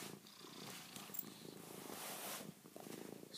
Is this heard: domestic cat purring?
yes